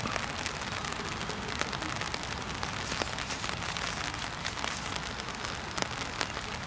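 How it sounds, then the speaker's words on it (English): Steady light rain falls during an outdoor baseball game, a constant soft patter of scattered drops tapping nearby surfaces, with no wind and no voices. "There's a more steady rain right now."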